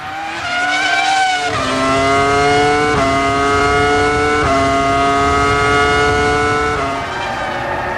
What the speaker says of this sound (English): While the Ferraris continue to control the race from the front, Olivier Panis experiences his typical 2002